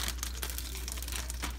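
A food package crinkles and tears open close by in a kitchen while a one-pan dinner is prepared, with soft continuous rustling and a few sharper rips over a faint background hum.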